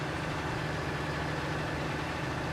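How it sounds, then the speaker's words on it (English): A tractor engine idles in Farming Simulator 19, a steady low rumble holding even throughout with no voices over it. "I think this is the fastest tractor in game"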